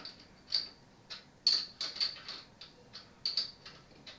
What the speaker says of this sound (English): probably easier with my wrench